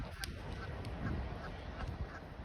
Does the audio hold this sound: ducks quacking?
yes